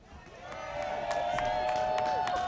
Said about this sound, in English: Please give a warm round of applause to our dear sister